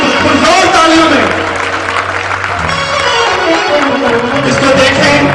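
Loud, sustained applause from a church congregation welcoming a six-year-old girl, with voices and music tones mixed in throughout.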